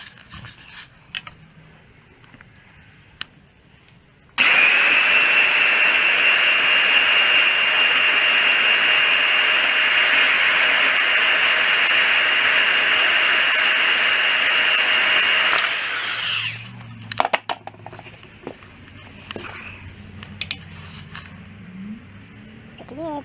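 A power tool with a flat cutting disc slices through a rack bushing clamped in a vise during a Mustang steering angle kit install. A loud, steady high-pitched whine runs for about eleven seconds, then winds down, with faint clatter afterward.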